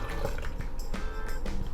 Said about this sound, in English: I am going to pour in my tea to my pitcher